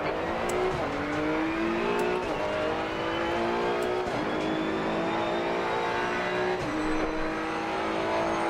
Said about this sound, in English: Ooh, that has a good engine sound. Wasn't expecting that with a V6.